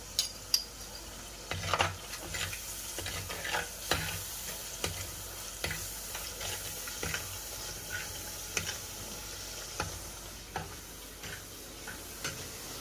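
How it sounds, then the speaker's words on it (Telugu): Onion paste fries in a pan with a steady soft sizzle and frequent sharp spatula scrapes and taps that recur every second or so throughout. "ఈ ఆనియన్ పేస్ట్ దోరగా వేగిన తర్వాత మనం టమోటోస్ వేసేద్దాం"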